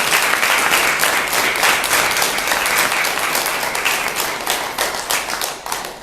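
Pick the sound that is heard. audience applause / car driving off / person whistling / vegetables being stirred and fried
audience applause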